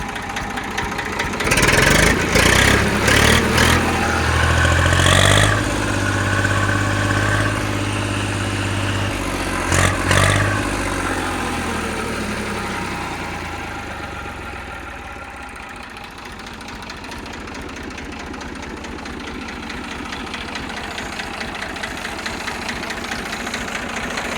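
A tractor with a Simpson engine chugs loudly and close, revving briefly before easing into a steady, lower idle rumble that continues to the end.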